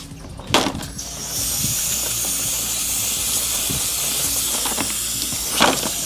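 A bike chain cleaner hisses steadily from an aerosol can for several seconds, close and loud, with a few brief clicks and knocks before and after the spray.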